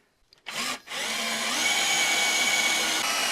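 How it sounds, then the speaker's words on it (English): A power drill boring through solid steel, lubricated with cutting oil, while building a seat swivel for a bus; a brief start and stop, then a steady, loud, close whining grind that holds for several seconds. "since we are actually drilling proper steel"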